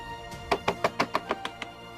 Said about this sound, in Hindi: कृष, कृष दरवाजा खोलिए